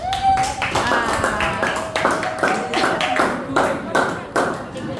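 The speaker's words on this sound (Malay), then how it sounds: "Bagi tepukan untuk Zek" A classroom of Malaysian students claps for a classmate. The sharp, separate claps come in a loose, uneven rhythm, close and fairly loud, with a teacher's voice speaking over them.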